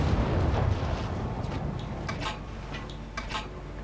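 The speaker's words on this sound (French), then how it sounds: "Donc on a une petite bordée de boulets" Cannon broadside fired from a ship in the naval video game King of Seas: a few booming shots in quick succession over a steady low rumble of sea and engine ambience, with no talking.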